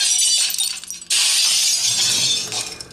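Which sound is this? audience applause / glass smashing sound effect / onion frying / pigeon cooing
glass smashing sound effect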